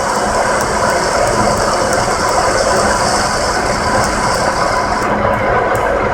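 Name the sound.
engine lathe running with feed disengaged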